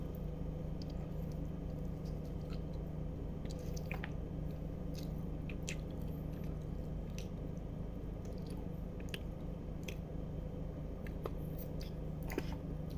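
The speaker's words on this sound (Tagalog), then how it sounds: "Kagat ko yung buto." Biting and chewing on a chicken thigh bone, close wet squishing mouth sounds with scattered sharp crunchy clicks over a steady low background hum.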